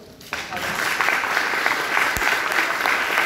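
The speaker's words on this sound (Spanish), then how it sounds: "Un aplauso." Applause from an audience rises suddenly after a brief quiet moment and holds as a steady, crowded clatter of clapping hands at middle distance, with a faint murmur of voices beneath.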